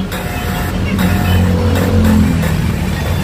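A Toyota Revo gasoline engine's 90-amp alternator with a grounded diode gives a loud, continuous mechanical whirring and motor drone with rough, pulsing undertones, close and steady throughout.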